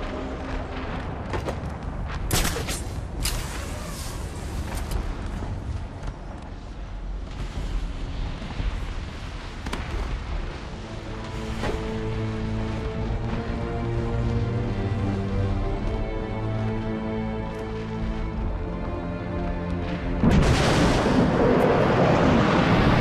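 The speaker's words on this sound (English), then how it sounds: "Sir, initial bombardment of the museum has been completed." Artillery bombardment pounds a museum in the video game Batman: Arkham City, with dense, continuous booming and rumbling blasts, a few sharp bursts early on and a heavy surge of explosions near the end.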